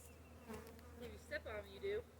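A big honey bee swarm buzzes faintly, with a few individual bees droning past close by in short rising and falling whines over a low steady background.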